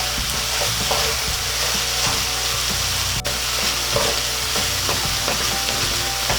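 Potatoes and corned beef fry in a pan for corned beef hash, giving a steady, close sizzle with scraping and stirring clatter throughout, and no one talks.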